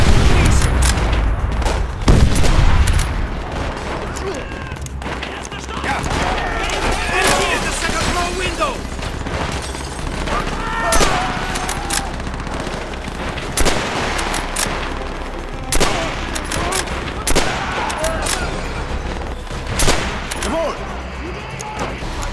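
Dense gunfire from a Call of Duty German campaign battle rattles on continuously, with bursts and heavy booms, especially a loud blast near the start. Shouted voices carry over the shooting.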